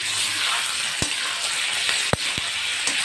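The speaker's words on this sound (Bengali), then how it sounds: "জাস্ট 1 মিনিট একটু নাড়াচাড়া করে ম্যারিনেট চিকেনটা দিয়ে দেবো" Marinated chicken drops into a hot pan for a stew and sizzles in a steady, close frying hiss, with a few sharp clicks and taps from the pan or spoon.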